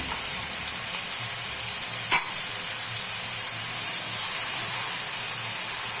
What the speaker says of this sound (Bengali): প্রথমে পেঁয়াজ বাটা দিয়েছি, রসুন বাটা দিয়ে দিলাম